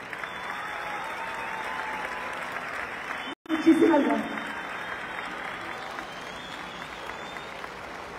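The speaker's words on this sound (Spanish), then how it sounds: "Y yo pido a todo el estadio que se una conmigo un aplauso" Steady stadium crowd applause fills the opening ceremony of a para athletics Grand Prix in Xalapa, 2023, continuous and broad, briefly cut then swelling again, with someone speaking over it.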